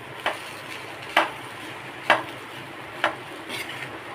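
Cooked rice being stirred into tamarind puliyodarai mixture, with four evenly spaced soft scraping strokes over a quiet background.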